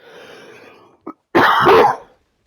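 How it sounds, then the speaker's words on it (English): A single close, harsh cough bursts out after a brief breathy sound and a short click, loud and isolated with no talking. "man, this cough."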